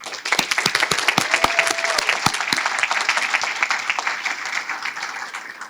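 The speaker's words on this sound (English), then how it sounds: "I think they deserve a round of applause." A crowd at a coronation ball applauds with dense, steady clapping and a few sharp individual claps standing out, gradually thinning toward the end.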